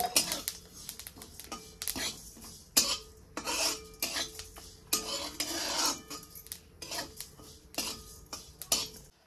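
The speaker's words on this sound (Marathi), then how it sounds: "ह्यात मी सुक्क खोबरं टाकणार आहे। तर ती पण खोबरं ह्याच्याबरोबर आपल्याला भाजून घ्यायचं आहे।" Dried coconut is dry-roasted with sesame and coriander seeds in a pan for misal masala, heard as repeated bursts of a spatula scraping and clattering against metal, close and moderately loud, with gaps of quiet between strokes.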